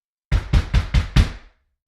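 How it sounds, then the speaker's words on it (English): Five sharp knocks on a door in an even, fairly quick rhythm, loud and close, with nothing else heard and a short silence after the last one. "The knock came again, louder this time."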